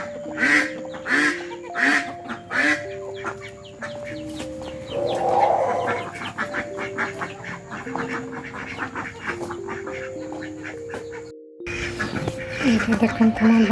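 Ducks quack repeatedly around a village home and pond, a busy mix of fowl calls under and between a voice talking, with background music running throughout.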